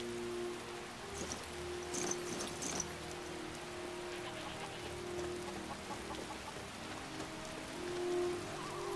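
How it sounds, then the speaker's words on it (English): Heavy rain in the video game Skyrim pours steadily with a constant hiss, joined by a low droning hum and a few brief higher sounds early on. "Let me put my outdoor clothes on since it's dumping rain."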